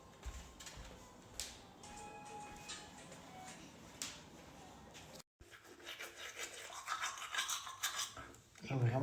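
Toothbrush scrubbing teeth at close range, a dry rhythmic rubbing and bristle rasping that runs steadily before and after a short break.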